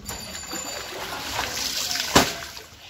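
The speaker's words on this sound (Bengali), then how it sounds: "শাড়িগুলো এখানে ধুয়ে নিচ্ছি।" Saris being washed by hand in water: close sloshing, trickling and splashing, with a sharper splash near the end and no clear talk.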